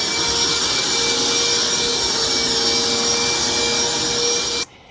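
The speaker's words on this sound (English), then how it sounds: "Here she comes with her trusty vacuum" A vacuum cleaner runs inside a water-damaged house, a loud steady motor whine with a sustained humming tone that continues unbroken before cutting off abruptly at the end.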